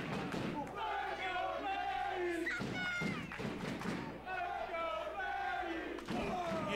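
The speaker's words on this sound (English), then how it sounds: "You hear the chants from the crowd" A crowd at a wrestling event chants in rhythmic unison, loud and steady throughout, with commentators talking over it.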